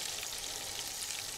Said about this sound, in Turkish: Hafif hafif yağda kızartınca